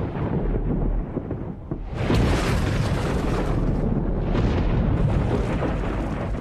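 Deep rolling thunder in an ancient tropical forest setting, a loud continuous rumble that swells after a quieter start and stays heavy and sustained throughout.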